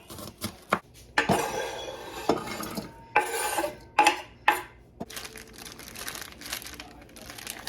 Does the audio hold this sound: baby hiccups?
no